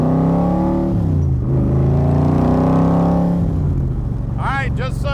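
Engine of a 1965 Shelby Cobra Backdraft revs and rises in pitch as the car accelerates, then drops back, loud and close, with a voice briefly heard near the end.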